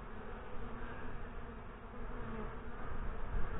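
Honey bees fly in and out at the entrance of a New Zealand hive, some carrying orange pollen, producing a soft, continuous buzzing hum that stays close and even and swells slightly toward the end.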